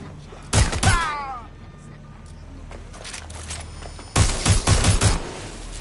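Gunfire in the Watch Dogs: Legion video game, two loud clusters of rapid shots in quick succession separated by a quieter stretch with a brief descending whistle-like tone.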